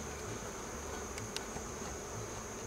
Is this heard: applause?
no